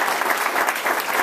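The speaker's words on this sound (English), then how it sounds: "let's give everyone a round of applause" Audience applause at a portrait unveiling ceremony for a county executive, a short steady burst of many hands clapping, dense and even throughout.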